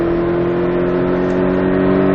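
A Porsche Cayman engine holds a steady, loud drone from inside the car as the driver gets back on the throttle on a track, the tone staying nearly constant with no one talking.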